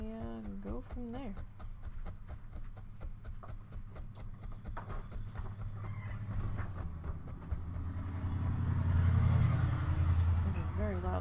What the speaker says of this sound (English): Very loud pickup truck going by.